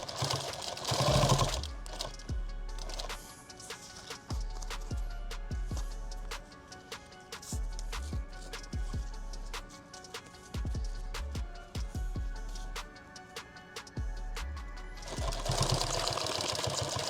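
A sewing machine runs in repeated bursts of quick mechanical stitching, stopping and starting in a steady rhythm, close and clear, with brief louder rustling at the start and end.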